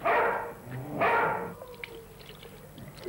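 Two loud, rough barks from dogs nearby at a dog rescue shelter, about a second apart, followed by a quieter stretch of faint background noise.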